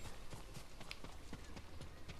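Horse hooves clip-clop in the video game Ghost of Tsushima, a quick, even run of hoofbeats at a steady trotting rhythm, close but fairly quiet.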